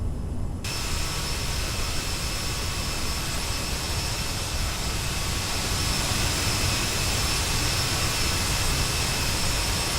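Airliner jet engines in Microsoft Flight Simulator, PSA Airline on a Savannah to Charlotte flight, roar loudly and steadily with a constant high whine throughout.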